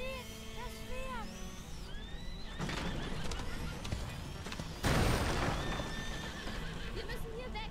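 A horse whinnies several times in the video game A Plague Tale: Innocence, with clattering hooves and rumbling booms mixed into a busy, loud in-game scene.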